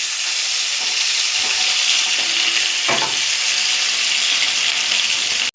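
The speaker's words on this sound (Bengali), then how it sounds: "যেহেতু মাছের মাথা দিয়ে রান্না করবো তো সেই জন্য পেঁয়াজ কুচিটা দিয়ে দিলাম" Chopped onion sizzles steadily in a hot pan as fish-head curry gets under way, a dense, even frying hiss with a couple of soft stirring scrapes partway through and no talk.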